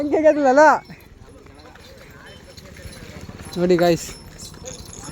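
A cow being led during Sankranti festivities gives a quick, even patter of hoof clops on hard ground. A voice speaks loudly at the start and again near the end, over the rhythmic steps.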